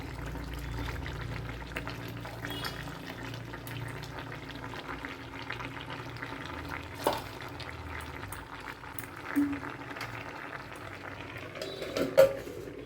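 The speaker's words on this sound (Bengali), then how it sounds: "এবার আলুটা আর এই ডাটাগুলো সেদ্ধ হবে" Potatoes and Malabar spinach stems simmer in a pot of water, giving a steady, soft bubbling hiss with occasional small pops and clinks, close and fairly quiet.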